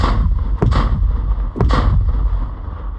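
Two heavy booming reports from artillery fire during a military training exercise, loud and spaced about a second apart over a steady rumbling background, with no talk.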